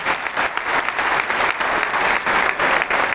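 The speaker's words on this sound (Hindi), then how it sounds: "Big hand for Shahbaz Hussain Saheb." Steady, loud clapping from a big crowd honouring tabla player Shabaz Hussain at an award ceremony, with the applause rippling in slight surges but never letting up.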